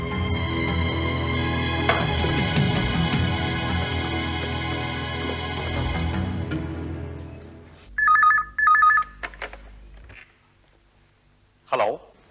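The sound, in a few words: telephone ringing on an outgoing call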